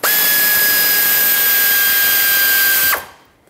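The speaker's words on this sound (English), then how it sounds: "I'm gonna do this with my air ratchet just so it can go a little bit quicker" An air ratchet spins at high speed unthreading a 12 mm bolt on a 1995-2004 Toyota Tacoma 2.4L engine, a loud steady pneumatic whine for about three seconds that cuts off abruptly, leaving a short hiss.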